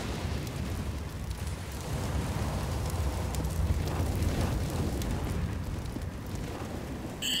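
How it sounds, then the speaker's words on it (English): An incendiary grenade burns in CS:GO, making a continuous roaring, crackling rush of flames that holds steady and fairly close throughout, with no voices. "Throwing fire."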